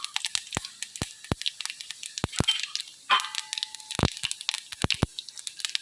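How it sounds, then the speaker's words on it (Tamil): Mustard seeds splutter in hot oil in a kadai, a busy crackle of sharp pops and snaps at irregular intervals, close and fairly loud with no talk. "கடுகு பொரியட்டும்"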